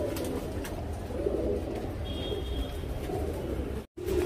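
Lal Kat racing pigeons, young birds being readied for a tournament, give low, steady cooing that goes on under a constant background hum, with a short break near the end.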